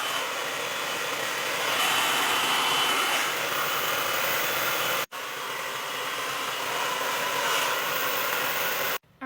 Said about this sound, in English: blow dry really fast